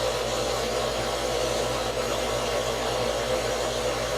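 A heat gun heats the side of a SOG turtle with a steady, even blowing hiss that runs unbroken throughout, close and moderately loud.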